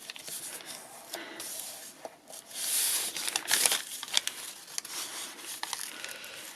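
Paper for a mini journal is folded back and forth by hand, giving soft crinkles and crisp creasing rustles in irregular bursts. The sound is close and quiet, with brief pauses between folds.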